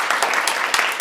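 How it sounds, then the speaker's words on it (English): Brief applause from an audience at an art talk, a short burst of scattered hand claps with a few sharper individual claps standing out, lasting about a second. "everybody a round of applause for Jay"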